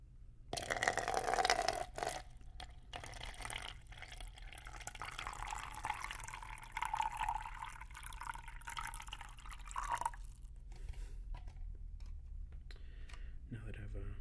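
Water pours into a container on a mouth-sounds recording, a steady trickling, gurgling stream that rises in pitch as the vessel fills, close and fairly quiet, ending abruptly, with faint background noise after.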